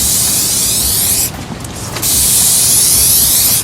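Gemstone Mousse sprayed from an aerosol can in two long, loud hissing bursts separated by a brief pause.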